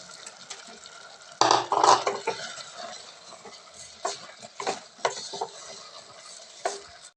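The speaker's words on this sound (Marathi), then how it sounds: "मी स्वच्छ धुवून घेतलेला आहे बासमती राईस तो त्याच्यामध्ये मिक्स करून घेते" Washed basmati rice being stirred into veg pulao in a pot, soft wet scraping and stirring with a few louder bursts of spoon strokes, close and without talk.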